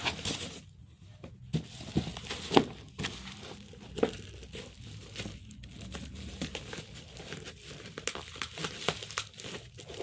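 Crinkling and tearing of plastic packaging as a tripod delivery package is opened, with irregular rustles, crunches and sharp rips close by over about ten seconds.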